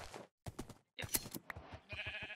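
Several short sheep bleats from a Minecraft-style video game, clipped and close, arriving in quick separate bursts with gaps of silence between them.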